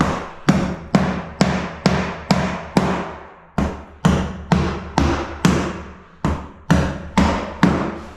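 Steady hammer blows drive nails through cement sheet laid over glued tongue and groove flooring, about sixteen sharp, evenly paced thuds ringing close and loud with brief gaps between runs.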